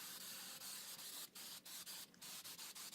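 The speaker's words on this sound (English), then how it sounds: "So here we're using the 3M Super 77 spray adhesive." 3M Super 77 spray adhesive hisses from an aerosol can in a close, continuous spray interrupted by a few brief pauses.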